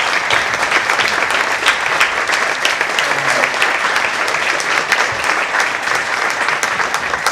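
Steady, dense applause fills a luncheon reception room, many hands clapping continuously at full volume without a break from start to finish.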